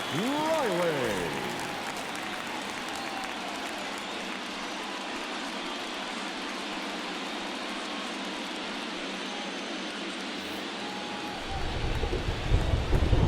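Steady rain falls over a baseball stadium during a Dodgers–Braves NLCS game, a dense broadband hiss that holds constant, with a low rumble swelling near the end.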